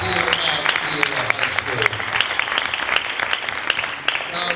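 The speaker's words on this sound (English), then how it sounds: "how about a round of applause for Maggie Davis and the entire athletic department" Audience at a Viera High School Hall of Fame induction ceremony claps steadily and loudly for the athletic department, a dense burst of hand claps with faint voices mixed underneath.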